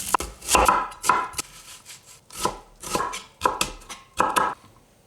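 A knife chops an onion on a board for moussaka, giving a series of sharp, irregular close-up strikes in short bursts with brief pauses.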